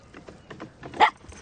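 A dog in a car insurance commercial gives a few short barks and yips, ending in one louder, sharper bark near the close, fairly close and clear.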